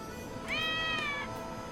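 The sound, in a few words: cats meowing in video game Lost Judgment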